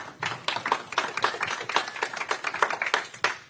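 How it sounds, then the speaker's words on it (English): A crowd applauding at a Monster Energy Supercross press conference in Daytona, dense rapid clapping that stays fairly loud and continuous throughout. "Big round of applause for these three warriors up here."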